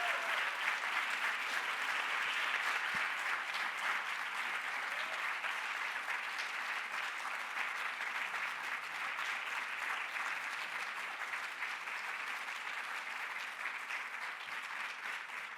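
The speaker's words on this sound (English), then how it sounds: "Please give them a big, big round of applause." Steady audience applause at a Toni Morrison Courage to Read award ceremony held at a neighborhood bookstore, a dense, even wash of clapping that carries on for about fifteen seconds with no break.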